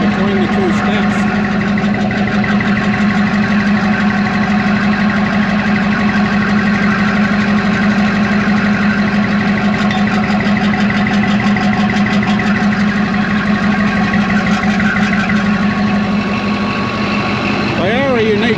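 A loud Caterpillar D11 bulldozer diesel engine idles steadily, heard close by from between its two exhaust stacks, a deep rumbling throb with a syncopated beat that holds the whole time without letting up.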